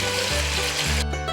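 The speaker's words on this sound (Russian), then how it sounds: "нарезаем полукольцами репчатый лук и быстро, буквально в течение 3 минут, пассируем его на растительном масле до золотистого" Sliced onion half-rings sautéing in vegetable oil in a pan, a loud continuous sizzle and crackle close up, with no talk.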